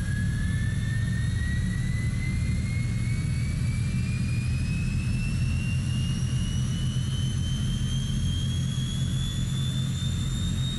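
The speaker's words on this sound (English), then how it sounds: "There's light off. Engine's accelerating." Turboprop engine of a Transall C-160 starting up in Microsoft Flight Simulator 2020, a loud steady roar with a rising whine as the engine spools up and accelerates, continuous throughout with no talking.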